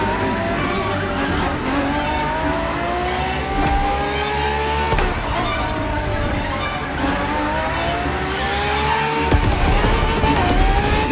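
A Ferrari FXX K, a track version of the LaFerrari, races in The Crew Motorfest, its engine climbing through rising revs with gear shifts and tire squeal, loud and continuous throughout.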